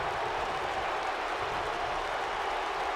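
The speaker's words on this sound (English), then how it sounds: "UK crowd on their feet" A UK arena crowd in a WWE 2K wrestling match roars steadily as a broad, constant wash of cheering, even and sustained throughout.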